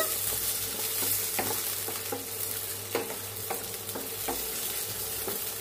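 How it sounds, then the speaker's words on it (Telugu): Peanuts, chana dal and fenugreek seeds fry in a pan for a bottle gourd chutney, giving a steady sizzle broken by a regular series of scraping stirs, close and moderately loud, with no voices. "1 టేబుల్ స్పూన్ పల్లీలు యాడ్ చేస్తున్నాను 1 టేబుల్ స్పూన్ శనగపప్పు ఒక 1/2 టేబుల్ స్పూన్ మెంతులు ఇవన్నీ కూడా వేయించేసుకుందాం"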